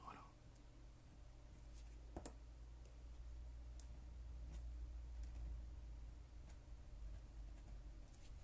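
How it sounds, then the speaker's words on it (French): A fountain pen nib scratches across a sheet of paper during a live drawing session, giving faint, irregular ticks and scrapes over a low steady hum, with a sharper stroke standing out near the start. "pour vous faire entendre le bruit de la plume sur la feuille"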